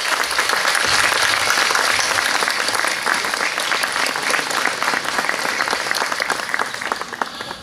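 Audience applauding at an outdoor vocal-symphonic concert in a city park, a dense, steady wash of clapping from a large crowd that holds strong throughout and eases only slightly toward the end.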